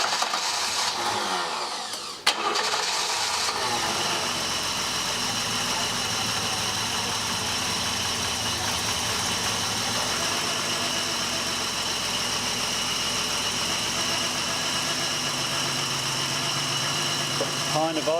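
An old barn-find BMW engine left sitting for decades catches after a brief crank and settles into a steady, slightly rough idle, running loud and close for the whole stretch.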